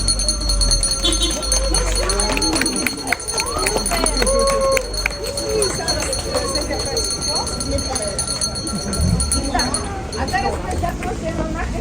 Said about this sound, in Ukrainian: Лунає перший дзвінок.